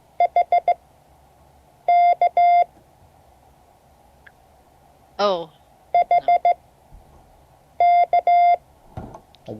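Morse code sent as letters in a steady electronic tone, short clustered groups of beeps repeating in bursts, with a brief voice interjection between groups.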